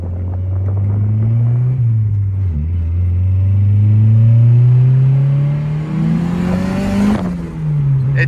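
An Acura Integra engine revs steadily upward on a dyno, its pitch climbing over several seconds, then briefly dips and rises again, loud and close.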